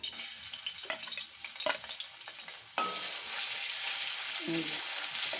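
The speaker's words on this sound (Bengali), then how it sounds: "অল্প একটুখানি তেল দিয়েছি কড়াইতে প্রথমে এই তেলের মধ্যে আমি এই আদা আর কাঁচা লঙ্কাটা" Ginger and green chilli sizzle in a little oil in a kadai, with a steady frying hiss that grows louder partway through and a few stirring scrapes and clinks along the way.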